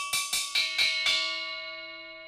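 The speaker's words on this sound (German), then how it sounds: "Ein sehr interessanter und außergewöhnlicher Sound, den diese Schüssel produziert." A stacked cymbal bowl is struck five times in an even, quick rhythm, each hit blooming into a bright, bell-like ring with shimmering overtones that hang on and slowly fade after the last strike.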